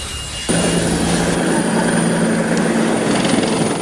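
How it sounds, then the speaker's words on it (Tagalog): Two military helicopters landing at Villamor Air Base, their rotors and engines a loud, steady roar that starts abruptly and holds close and constant throughout with a sustained low drone. "libing ni dating Pangulong Ferdinand Marcos, lumapag sa Villamor Air Base ang 2 military helicopter"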